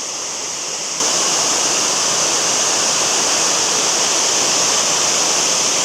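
A waterfall with flowing water on the way to Ooty, a loud, dense, constant roar that swells up after the first second and holds steady, close and alone without voices.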